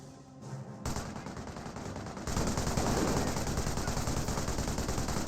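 Continuous heavy machine-gun and rifle fire pinning down a German Grenadier squad in the World War II strategy game Company of Heroes, loud and sustained after a brief quieter opening, with dense rattling bursts throughout.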